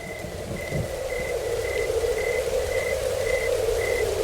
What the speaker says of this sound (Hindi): हल्की हल्की बारिश शुरू हो गई